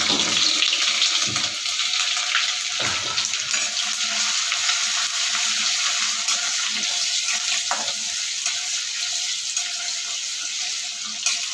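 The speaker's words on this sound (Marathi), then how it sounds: "आता आपलं हे तेल तापलेलं आहे आपण टाकूया अद्रक लसूण जे मी टेचून घेतलं" Chopped ginger and garlic sputter in hot oil for chicken sukka, a constant loud crackling sizzle with occasional stirring knocks.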